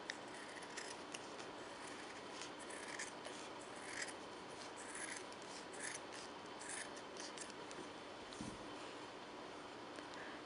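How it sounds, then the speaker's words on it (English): Scissors snip through a folded sheet of felt, cutting out a heart shape with a steady series of soft, close crunching cuts in a quiet room. "take your sheet of felt and fold it like this over itself. Then go ahead and cut out half of a heart shape."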